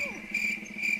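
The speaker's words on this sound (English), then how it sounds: "Crickets once again" Crickets chirp steadily in a gag sound effect, a continuous high, even trill heard alone for about a second.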